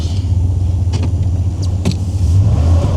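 A GMC Sierra pickup truck on American winter tires drives with a loud, steady low engine rumble inside the cab, with faint clicks and rattles over the top.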